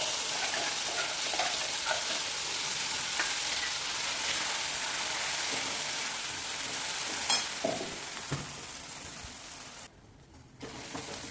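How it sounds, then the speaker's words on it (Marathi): A steady, bright sizzle of thick ground peanut-coconut paste frying in hot oil with spluttered mustard seeds, with a few scraping stirs near the end and a brief dip in the hiss. "मोहरी छान तडतडली की त्याच्यामध्ये आपण हे शेंगदाणे आणि खोबऱ्याचं जे वाटण करून घेतलेलं ते"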